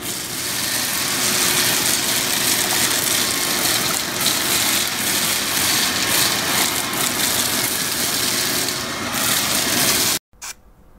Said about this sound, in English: I'm just using a shop vac to get all this vacuumed up